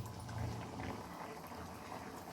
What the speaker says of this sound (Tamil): கிரேவி வந்துட்டு நல்லா கொதிக்குதுங்க.